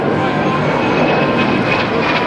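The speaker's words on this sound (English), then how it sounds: "you'll hear a high-pitched whine from these engines" Twin-engine MS760 Paris jet aircraft with Marboré engines of about 1,100 pounds thrust each, passing during an airshow flyby: a loud, steady broadband roar with a high whine, continuous throughout.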